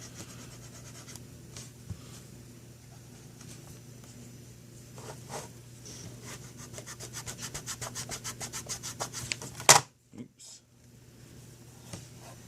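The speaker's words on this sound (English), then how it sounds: "you can actually scrub at it here" Marker ink is scrubbed off a retro video game cartridge with quick repeated rubbing strokes that speed up into a rapid scratchy rhythm, close and fairly quiet, ending with a sharp knock, over a low steady hum.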